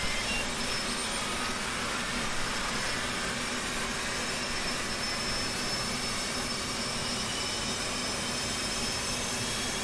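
A steady, loud jet engine whine and roar from an F/A-18C Hornet starting up in the DCS flight simulator, a continuous hiss and hum with a high tonal whine, unbroken and without voices.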